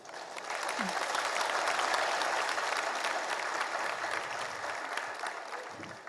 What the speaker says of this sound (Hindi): इन तालियों में जैसे एक आवाज आ गई